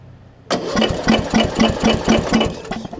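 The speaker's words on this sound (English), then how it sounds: "See if I can get it started on choke again." A Murray widebody riding mower, refitted with a new carburetor and fuel lines, is started on choke. After near-quiet, the engine catches at once and runs loud and close with a rough, rhythmic loping pulse. No talking.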